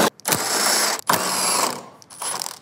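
A ratchet spins out 10 mm headlight screws on a 2020-or-later Silverado 2500HD/3500HD in three close, loud bursts of rapid clicking separated by short pauses, with no talking.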